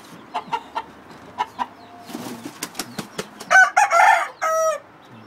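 Chickens and roosters cluck in quick separate bursts, then a rooster crows loudly and nearby near the end, with some scattered fowl noises and the faint flutter of wings, no people talking.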